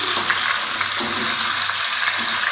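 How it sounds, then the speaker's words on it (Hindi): Chicken for a dhaba-style karahi fries in hot oil with a steady, loud sizzle, while a spatula stirs and scrapes through it at intervals. "चिकन डाल देंगे। इसको भूनते हैं"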